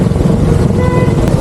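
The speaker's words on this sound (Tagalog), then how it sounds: "pumapali na naman yung kanyang motor" A flood-damaged motorcycle's engine runs roughly up close, a loud, uneven low putter that wavers through the whole short burst.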